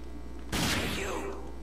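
A single gunshot fired in the video game RAGE cracks out loudly and decays over about a second, with steady game background hum before it.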